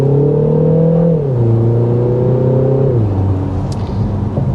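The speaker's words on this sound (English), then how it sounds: "That was a little bit of a rolling acceleration" A 2025 Mini Countryman with a 2-liter turbo engine and 7-speed dual-clutch transmission accelerates from a roll, its engine note loud and close as it climbs in pitch, drops at each shift and rises again.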